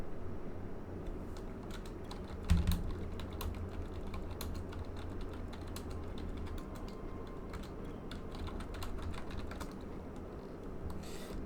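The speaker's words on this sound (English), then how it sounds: "They've added in noise for typing and sending messages and such." Keyboard typing for chat messages in the World of Warships game, a quiet continuous patter of soft key clicks over a steady low mechanical hum, with one brief louder knock early on.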